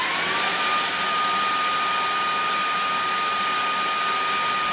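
A Milwaukee M18 BLCV2 cordless vacuum cleaner runs steadily, a loud, close, continuous whine-and-rush with no pauses.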